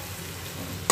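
Chili powder and cumin frying in hot oil hiss steadily and closely, ending with a brief sharp clatter of a utensil.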